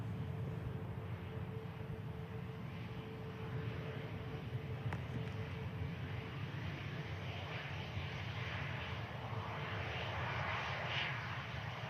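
An EasyJet airliner taxis at Manchester Airport, its jet engines giving a low, steady, distant rumble and whine that holds throughout.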